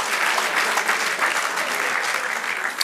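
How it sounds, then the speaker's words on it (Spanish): A church congregation gives a loud, sustained round of applause during a sermon, many hands clapping densely and evenly from start to finish, with no voice above it. "Démosle un aplauso al Señor por eso."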